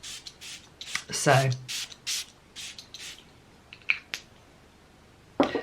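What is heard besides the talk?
soft aromatic spray being sprayed, with sage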